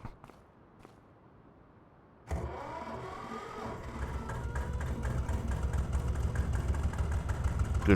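Engine of a small old Porsche diesel tractor in Farming Simulator starting up after a quiet stretch, then running as a steady low idle with a rising, busier rumble near the end.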